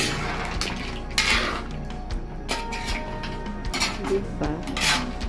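Shrimp and mussels being stirred with a ladle in a pot, with repeated metallic scrapes and clanks in an uneven rhythm while a person talks intermittently.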